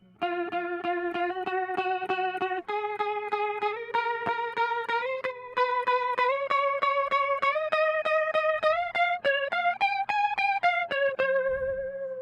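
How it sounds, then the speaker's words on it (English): Distorted electric guitar plays a run of sustained notes, thick and saturated with effect, steady and clear with no talking. "It's just this pedal with a distortion."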